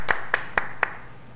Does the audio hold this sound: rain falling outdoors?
no